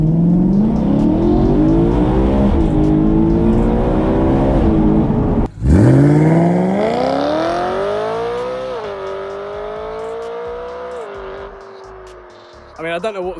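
A sports car, a Skoda Fabia vRS or BMW M3, accelerates hard in a 0-60 run, its engine pitch climbing steeply through gears, loud and close, then easing off as it pulls away; no one speaks.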